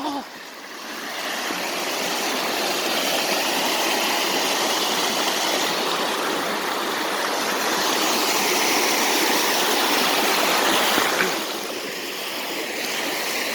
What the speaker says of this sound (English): their waterfall